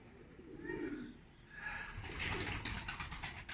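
Tumbler pigeons released to fly outdoors, with soft cooing and a burst of wing flutter rising near the end, faint and distant, without speech.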